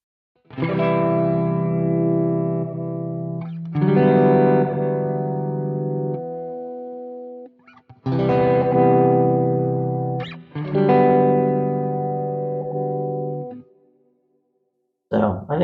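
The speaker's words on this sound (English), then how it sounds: "You can hear it has an effect. You can hear that kind of pulsating sound." Sustained guitar chords drenched in a sweeping, pulsating flanger effect from a Quad Cortex, played in long phrases separated by short pauses.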